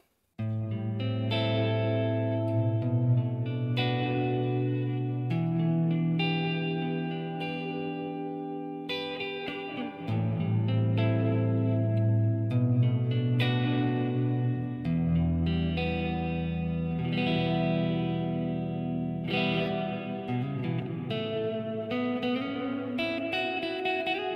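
Clean electric guitar on the neck pickup playing chords and picked notes, drenched in lush reverb and a shimmering chorus-like effect, steady and fairly loud throughout with no talking.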